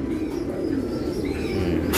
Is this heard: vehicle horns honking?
no